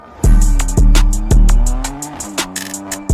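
A black McLaren supercar with butterfly doors, owned by an NFL player, revs its engine in several sharp, loud bursts that rise and fall in pitch, each blip followed by a decaying roar, heard close with no talk.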